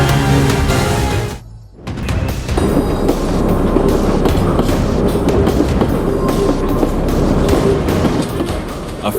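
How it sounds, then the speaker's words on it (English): Heavy rumbling and grinding of a derailed train in the middle of a street, loud and close, with clanks and metallic knocks; a short lull breaks it before the noisy rolling resumes. "This train just derailed in the middle of the street."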